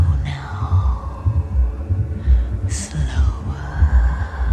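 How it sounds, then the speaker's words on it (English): A heartbeat in a film scene thumps in slow, low, rhythmic pulses under a faint hum, with a few brief higher swells and breathy sounds between the beats. "hear your heart beating."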